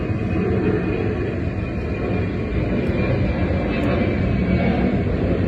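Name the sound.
airplane flying overhead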